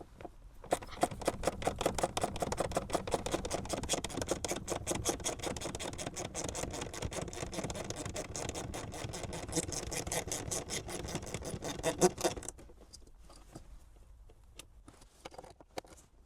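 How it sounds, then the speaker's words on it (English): Fasteners are pulled from a Tesla Model 3 under repair for an isolation fault from a failed PTC heater. Rapid, close clicking and ratcheting runs steadily for about twelve seconds, then drops to near quiet. "I'm just going to pull these fasteners out here."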